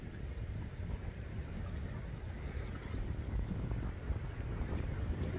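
Strong wind over a lake buffets the microphone in a steady, heavy roar, with faint water movement underneath and no voices.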